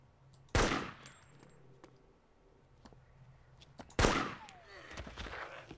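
Two loud, sharp gunshots from the video game DayZ, spaced a few seconds apart, each cracking out with a short echoing tail over a quiet background with faint clicks.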